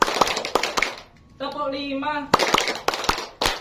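A classroom group claps together in a counted rhythmic pattern, sharp sets of hand claps separated by a short sung or spoken voice passage in between.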